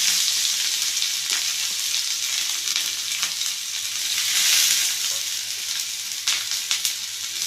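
Onions hiss and crackle in hot oil on a well-heated dosa griddle while a Madurai-style egg dish is made, giving a steady, loud, dense sizzle with small spatters throughout and no talking.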